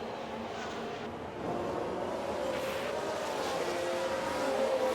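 Formula 1 cars from the F1 Manager 2022 game race past in Bahrain, a continuous high engine whine that swells and shifts pitch as one car overtakes another, with no speech.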